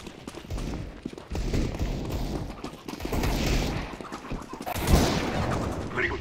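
Rapid bursts of gunfire from Counter-Strike: Global Offensive run dense and continuous, with loud close shots and a sharp peak near the end, layered over steady game noise.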